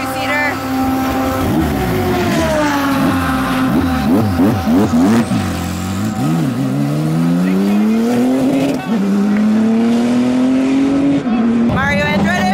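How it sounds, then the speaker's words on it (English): An IndyCar two-seater race car at speed around Pocono, loud engine whine sweeping up and down through gear shifts and passes, with rising and falling pitch, close and dominant throughout. "The IndyCar two-seater."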